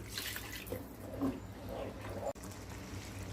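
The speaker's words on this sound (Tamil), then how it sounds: "இப்போ அந்த மிக்சி ஜாரில் கொஞ்சம் தண்ணி சேர்த்து அதையும் கலந்து ஊற்றிக்கலாம்." Water swished in a mixer jar with leftover ground paste is poured into a cooking pan for a chapati side dish, giving a soft continuous splashing trickle that ends abruptly.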